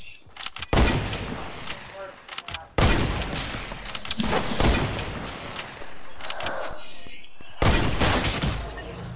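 Gunfire in the video game Fortnite, sharp loud shots and rapid bursts in repeated volleys with crashing impacts, close and heavy, while a person talks in between.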